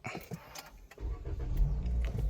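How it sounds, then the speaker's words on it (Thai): A Toyota Corolla Altis started by push-button smart key: a few light clicks, then the engine catches at about one second and settles into a steady, close, low idle rumble. "อย่าเบรกกดปุ่มสตาร์ทครับ"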